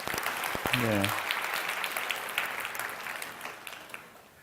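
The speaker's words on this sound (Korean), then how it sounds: "우리 보기 전에 먼저 박수 쳐주는 센스를 발휘하면 좋을 것 같아요" Audience applause in a church service for a university student group, a broad steady wash of clapping from a large crowd that fades slowly, with a brief voice near the start.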